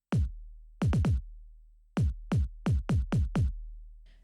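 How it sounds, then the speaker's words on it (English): Deep, punchy kick drum hits in a syncopated pattern: a single thump, a quick triple, then a run of six evenly spaced beats, each with a short decaying boom. "So for example, here we have the kick."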